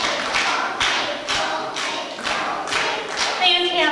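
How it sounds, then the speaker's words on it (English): Children in a classroom music lesson clap the two syllables of "maple" in loose unison, about eight claps in pairs, fairly loud and close, with their voices chanting along. "Can you clap 4 maple leaves?"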